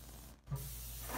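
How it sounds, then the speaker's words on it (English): A short, close hiss of olive oil spray coats halved avocados before grilling. One brief burst comes after a small pause, with no talking. "Just gonna spray them with a little olive oil."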